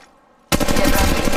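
Sudden loud sustained automatic fire from a mobile video game, a rapid unbroken burst of shots starting abruptly after near silence.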